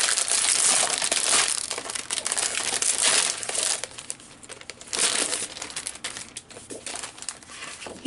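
Sheets of 12x12 patterned paper with gold foil accents being handled and shuffled, giving loud, continuous close-up crinkling and rustling in uneven bursts with brief quieter pauses.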